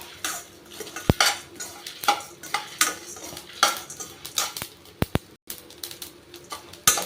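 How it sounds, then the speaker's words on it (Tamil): Sesame seeds roast in a pan while making drumstick leaf powder, with dal and garlic also in the pan. Busy scraping and clinking of a spoon against the pan mixes with rapid crackly pops, close and without speech. "இந்த எள்ளு வந்து படபடன்னு பொரியிறது."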